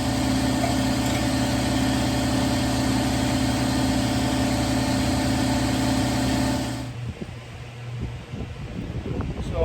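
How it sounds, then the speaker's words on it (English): An air compressor running, a loud steady hum with a constant drone that cuts off near the end, leaving quieter room sounds. "Sorry about the air compressor."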